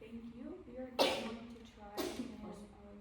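A sharp sneeze bursts out, followed a second later by another similar burst, while a person speaks quietly between and around them.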